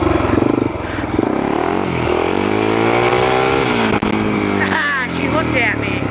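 A motorcycle engine revving hard while the rider pulls a wheelie on a muddy road, a loud close sustained roar with rising pitch sweeps and a brief dip, while a voice talks over it.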